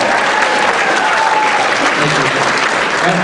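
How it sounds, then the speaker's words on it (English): A Republican club debate audience in Green Valley, Arizona claps steadily and loudly throughout, a full room's applause with faint voices mixed underneath. "That one always gets a cheap applause"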